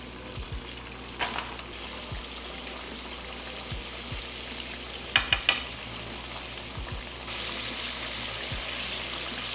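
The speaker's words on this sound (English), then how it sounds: "go ahead and get your next batch in while our oil is still a good temperature" Crappie fillets fry in hot oil with a steady, fine sizzle and bubbling, broken by a few soft clicks and a brief brighter crackle; the frying grows a little louder near the end, with no one talking.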